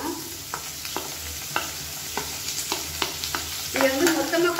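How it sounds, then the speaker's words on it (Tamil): Onions sizzle steadily in a hot pan while a utensil scrapes and clicks through them in irregular stirs, close up, with no voices. "வெங்காயம் நல்லா வதங்கணும்"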